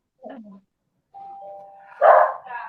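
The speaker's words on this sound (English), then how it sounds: "Someone just rang the doorbell, so of course Sully's going crazy as usual" A doorbell chimes with a sustained electronic tone inside a home, then Sully the dog breaks into a loud, close bark burst right after the ring, with a brief voice murmur at the start.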